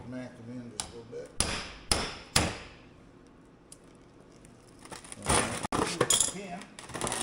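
A hammer taps mud flap fasteners into a Trail Rider 570 in several sharp metallic strikes, a few early and a cluster later, close by, with someone talking quietly between them.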